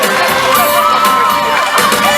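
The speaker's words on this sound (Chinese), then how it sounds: "谢谢你们给我的掌声加尖叫声" A loud, dense crowd roar of cheering, screaming and whooping from a concert audience at an outdoor temple festival evening show, sustained throughout.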